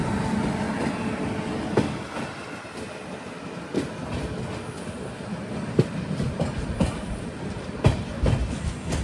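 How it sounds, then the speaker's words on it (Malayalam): An express train from Veraval in Gujarat to Thiruvananthapuram rolls through Kundapura station, its wheels clacking in irregular sharp beats over a continuous rumble. "ഇവിടെ ഒരു ട്രെയിൻ ഉണ്ട്. ഗുജറാത്തിലെ വെരാവലിൽ നിന്നും തിരുവനന്തപുരത്തേക്ക് പോകുന്ന എക്സ്പ്രസ്."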